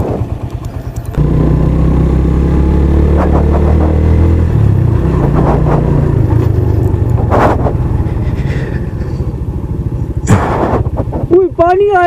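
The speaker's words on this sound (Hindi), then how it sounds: "पत्थरों पे इतना गाड़ी को उछाल रहा है ना।" A Bajaj motorcycle's engine roars loudly and continuously as the bike jolts over a rocky road, with rattling and clatter throughout and people talking over the noise.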